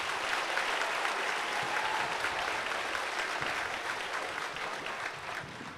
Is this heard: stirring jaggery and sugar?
no